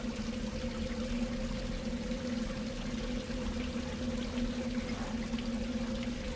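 Flowing water in the video game A New Beginning, a steady, even rushing pour with a faint tonal hum beneath, continuous and moderately quiet without any voices.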